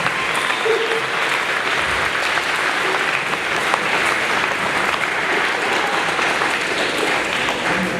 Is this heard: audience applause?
yes